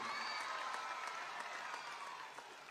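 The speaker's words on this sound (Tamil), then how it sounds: "நம்முடைய கைத்தட்டல் மூலம் நம்முடைய பாராட்டுகளையும் வாழ்த்துக்களையும் நாம் தெரிவித்துக் கொள்வோம்" Audience applause for a children's performance at a school event with a deputy chief minister present, a steady dense wash of clapping from a large crowd that holds throughout and fades slightly at the end.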